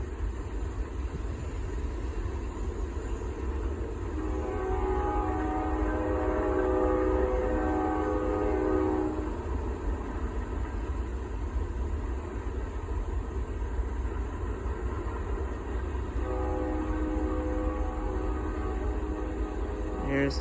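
The rear end of a Norfolk Southern freight train with coal cars rolls past in rural Rural Retreat, Virginia, a steady wash of wheel and rail rumble with some tonal ringing. The sound carries on without letup.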